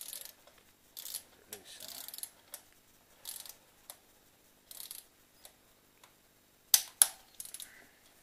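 A torque wrench tightening a bolt, giving a series of short, sharp ratchet clicks in small bursts, some close together and a louder pair near the end, with quiet pauses between.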